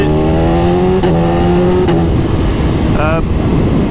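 A BMW S1000RR motorcycle engine revs loudly and close, holding a steady rising tone before a quick sharp blip near the end, with a voice speaking over it.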